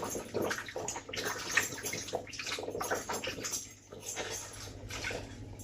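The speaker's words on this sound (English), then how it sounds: "So I'm just going to wash my hands here" Running water splashes steadily over hands at a kitchen sink, a continuous close wash with small shifts in the flow and no talking.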